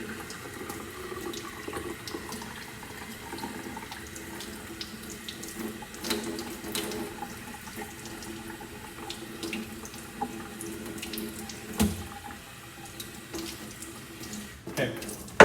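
Tap water runs steadily into a sink while the outside of a fluid paint refill bottle and its nozzle are rinsed, a continuous close splashing flow with small knocks near the end.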